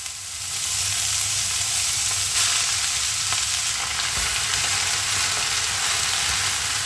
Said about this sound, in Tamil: எண்ணெய் சூடாயிடுச்சு நறுக்கி வச்சுருக்க பசலைக்கீரை அதில் சேர்த்துக்கலாம்